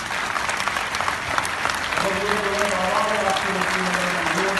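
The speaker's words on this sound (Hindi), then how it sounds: "खड़े होकर तालियां बजाइए मेरे साथी के लिए।" A standing audience at a community festival claps in a sustained, dense round of applause, with a voice speaking over it and a few tonal sounds from a microphone or music joining midway.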